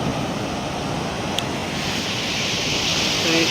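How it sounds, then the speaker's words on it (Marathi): Steady broadband roar of surf washing along the shore at Ganpatipule, fairly loud and continuous, with wind rushing over the microphone. "समुद्राच्या कडेला आला."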